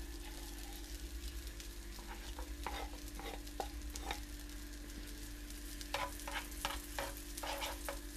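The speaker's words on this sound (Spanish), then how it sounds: "Salteamos un poco los ajos." Garlic sautéing in melted butter for spinach spaghetti sauce, a steady sizzle with intermittent scraping stirs of a utensil against the pan, growing busier toward the end.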